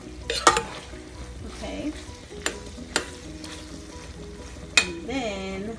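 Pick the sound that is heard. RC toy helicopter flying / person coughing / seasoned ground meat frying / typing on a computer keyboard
seasoned ground meat frying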